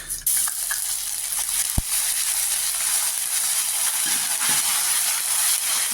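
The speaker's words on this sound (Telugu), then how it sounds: "కొంచెం బాగా వేగాలండి, పచ్చి వాసన పోవాలా" Two spoons of ginger garlic paste fry in hot oil with a loud, steady hiss and sizzle close by, plus a brief knock of a utensil early on and faint stirring scrapes.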